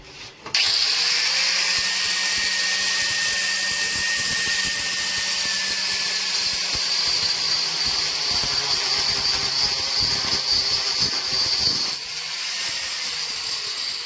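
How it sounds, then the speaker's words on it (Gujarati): A diamond core drill whines steadily for about eleven seconds, cutting a 40 mm hole for plumbing through hard material with a constant high-pitched tone, then stops and restarts briefly. "નળનો જે core cutting type diamond પાનાથી 40 mm નો હોલ મારવાનો છે"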